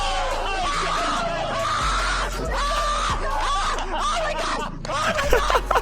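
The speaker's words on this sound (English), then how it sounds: "He also has this amazing scream that he does." A man lets out a long, loud, excited scream in drawn-out bursts after a big gambling win, close and dominant, with a few shouted yells between bursts.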